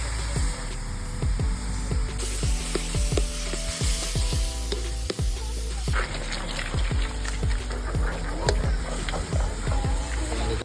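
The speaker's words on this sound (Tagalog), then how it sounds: "Magigisa lamang tayo riyan ng bawang, sibuyas pare, at sili pare" Garlic, onion and chili sautéing in a pan for a Filipino banana-heart dish, a steady close sizzle with repeated scraping stirs, accompanied by low background music.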